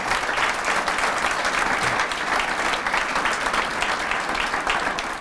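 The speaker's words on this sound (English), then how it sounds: "Let's give Mike another round of applause." Steady, dense applause from a seated audience at a CEO presentation event, loud and continuous throughout with no speech over it.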